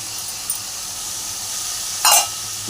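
Tomato paste goes into potatoes frying in oil for a katla fish curry with jhinge, a steady soft sizzle with one brief sharp hissing spurt near the end, close by and without speech.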